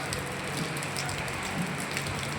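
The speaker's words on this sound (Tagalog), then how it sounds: "Ang lakas ng ulan." Heavy rain patters densely and continuously on a hard surface beneath an unfinished, roofless structure, a steady wash of drops with no voices.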